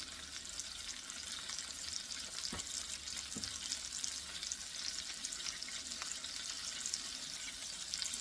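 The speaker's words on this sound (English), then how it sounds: "I'm going to wash this pan up" Water runs steadily into a sink as a frying pan is rinsed after cooking salmon, a continuous broadband wash with a couple of brief knocks of the pan partway through.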